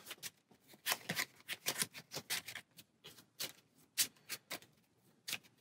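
A deck of playing cards being shuffled for the Marvel Champions card game, with repeated crisp riffling bursts that come in quick clusters and pauses, fairly quiet and close, no talking.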